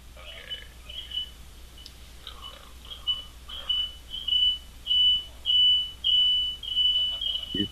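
A phone alarm beeps in a rapid, steady chain of high electronic tones that grow louder and more insistent over several seconds, with faint murmuring in the room behind it.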